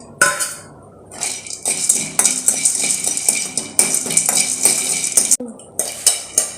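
Peanuts being lightly roasted and stirred in a pan while making aval laddu, with steady metallic scraping and clinking of a spoon against the pan, close and fairly loud, in an irregular rhythm of strokes.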